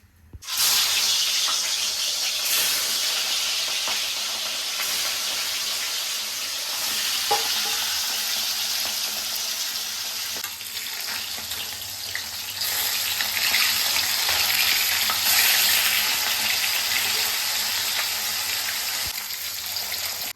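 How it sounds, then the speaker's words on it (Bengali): Catla fish pieces frying in hot oil in a wok, a steady loud sizzle and crackle running throughout, with occasional clinks and stirring sounds, no voices. "এবার মাছটা ভেজে নেব। কড়াই বসিয়ে দিয়েছি, তেল দিয়ে দিচ্ছি"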